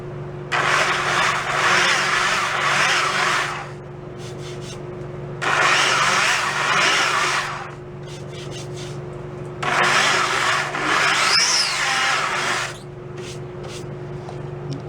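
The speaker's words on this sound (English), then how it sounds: "You'll notice I'm holding the belt sander at an angle." A belt sander grinds the tops off wooden dowels during restoration of a 1930s Slingerland Artists Model snare drum, in three slow, close passes of harsh rasping, each about three seconds long, separated by the motor's quieter running hum.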